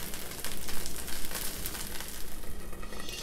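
Rava (sooji) dosa cooking on a hot pan, a steady crackling sizzle that stays fairly even and close throughout, with no voices.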